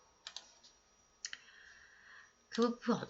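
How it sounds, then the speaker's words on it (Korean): Computer keys are pressed in a few quick separate clicks while someone speaks quietly over them, during spreadsheet shortcut work with Ctrl, Shift, the down arrow and F4. "컨트롤 쉬프트 아래 방향키 눌러서 F4 버튼 눌러서 고정해주고"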